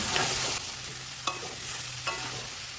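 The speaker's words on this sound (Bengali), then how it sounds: "মশলাটা যাতে তলায় লেগে না যায় তার জন্য আমি দিয়ে দেবো সামান্য একটু জল আবার একটু নেড়ে দেব" Pumpkin chokka masala sizzles steadily in a pan after a splash of water, with a few sharp scraping strokes of a spoon stirring it, close and fairly quiet.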